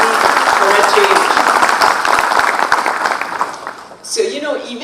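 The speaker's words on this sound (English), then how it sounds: "we should give a round of applause for them for taking the back seat for a change" An audience at a formal address by a design-institute president breaks into a sustained round of applause, with dense clapping that thins and fades toward the end before a voice resumes.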